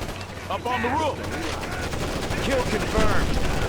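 Gunfire in the video game Ghost Recon Advanced Warfighter 2: dense, continuous rattling bursts of automatic fire under a busy battle mix with tonal effects, loud and sustained throughout.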